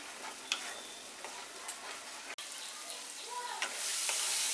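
Spice masala for a Bengali soybean curry sautéing in a pan, a steady soft sizzle broken by occasional spatula scrapes and clicks, with the hiss swelling louder at the end.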